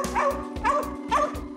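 A worked-up Chihuahua named Abby lets out three sharp, close barks at an even rhythm, each one a quick yappy burst with short gaps between.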